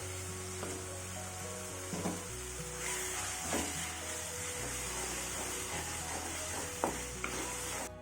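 Ginger garlic paste fries with sautéed tomato and onion for a chicken mushroom gravy, making a continuous hiss over a low hum, with occasional scraping stirs.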